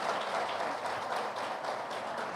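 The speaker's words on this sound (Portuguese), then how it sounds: "Aplauso foi pequeno, hein?" A church congregation gives a small round of applause at a Sunday celebration service. The sparse, even clapping fills the room at moderate loudness for a couple of seconds, alone and without speech.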